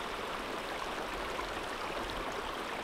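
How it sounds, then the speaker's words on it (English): Running water of a stream flows near a winter campsite on boggy ground on South Uist, a steady, even rush of water continuing without a break and with no voices. "and we've got running water."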